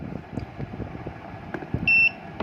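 A single short electronic beep from an Arduino fingerprint voting machine's buzzer sounds near the end, clear and high, over soft background rustling and handling noise.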